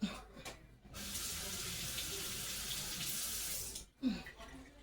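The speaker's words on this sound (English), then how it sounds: "I'm gonna rinse this garlic off." Tap water runs steadily into a sink as garlic is rinsed, a continuous near splashing hiss lasting several seconds before cutting off, with brief handling noises at the start and end.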